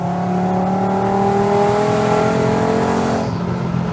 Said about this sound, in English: Driving the VR5 Volkswagen Golf. The sound is absolutely fantastic, man. It literally sounds like the world's slowest Lamborghini.